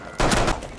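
Rainbow Six Siege gunfire during a special event: one loud, dense burst of rapid shots lasting under half a second, then a fading tail.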